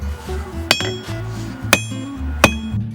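Three loud, ringing hammer strikes on a square steel bar being forged, evenly spaced about a second apart, over a steady low background hum.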